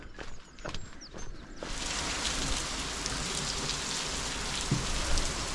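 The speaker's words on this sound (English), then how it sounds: "it's absolutely pissing down" Heavy rain pours down on the Suffolk coast at Southwold, starting with scattered drops and then becoming a dense, steady hiss of rain on surfaces close by, with no speech.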